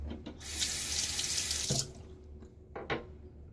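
Tap water runs steadily into a sink while a safety razor is rinsed during a shave, a broad rushing burst that stops abruptly, followed by a brief second splash of running water near the end.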